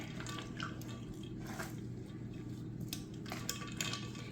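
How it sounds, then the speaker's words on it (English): Homemade butter is squeezed by gloved hands to press out buttermilk, producing soft wet squelches and drips over a steady background hum, close and quiet. "Just try to squeeze out my buttermilk in there."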